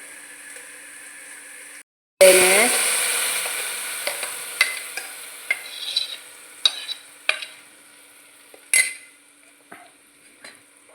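Spices frying in oil for a koddai fish curry. Silence breaks into a loud sizzle that slowly fades, punctuated by sharp clinks and scrapes of a spoon stirring against the pan.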